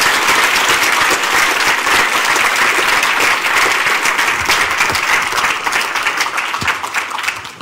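A lecture audience gives a big round of applause at the end of a mathematics talk, sustained, full crowd clapping that stays loud and even before tapering slightly near the close.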